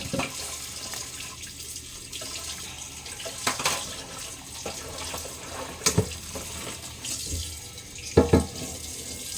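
Tap water runs steadily into a kitchen sink while a wok is rinsed, with a few sharp metallic clinks and knocks over the constant splashing.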